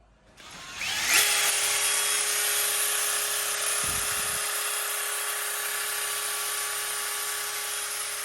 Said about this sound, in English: Drilling these through so I can get the pins in.